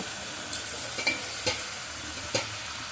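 Vegetables with turmeric sizzle in a pan while a spoon stirs them in about four distinct scraping strokes over the steady frying hiss.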